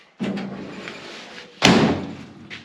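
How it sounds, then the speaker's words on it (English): The car door of a ratty 1955 Chevy Nomad, mid floor-install, is shut twice: a duller thud followed by a firmer, louder slam, both close and ringing briefly in a quiet space. "Door shuts."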